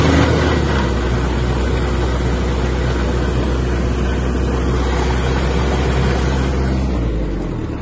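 A Kubota X-20 Japanese mini tractor runs with its power take-off engaged in third speed and is revved hard, giving a loud, steady engine drone that holds throughout and eases slightly at the end.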